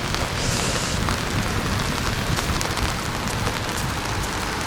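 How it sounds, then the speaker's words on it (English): Freezing rain and sleet fall in an ice storm as a steady, dense hiss and patter that lasts throughout, with no voices. "It was freezing rain and sleet."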